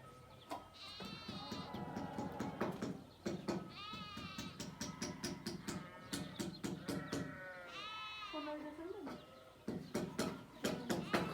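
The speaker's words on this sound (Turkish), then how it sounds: "Koyunlar meledikçe şimdi onu kaçırırlar." Sheep and lambs bleat repeatedly outdoors, several close, wavering calls overlapping in quick succession with short gaps between bursts.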